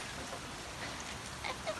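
Hail falls in a dense, even patter during a storm, a continuous close hiss of small impacts with a couple of slightly sharper hits toward the end.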